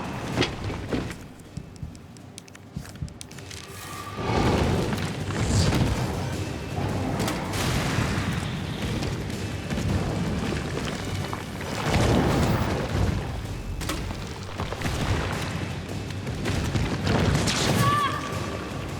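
Heavy booming explosions in Resident Evil 3 (2020), a dense, continuous stretch of rumbling blasts and crashing debris that swells repeatedly, with someone talking over the noise.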